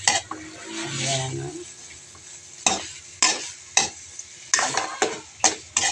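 Chicken pastel being stirred in a pan: a soft sizzle first, then a series of sharp spoon scrapes and knocks against the metal, close and fairly loud, at an uneven rhythm.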